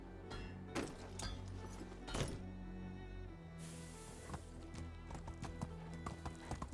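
Horse hooves clip-clop steadily in Medieval Dynasty, a medieval village-life game, with occasional clinks and a busy layered backdrop; no talk over the hoofbeats.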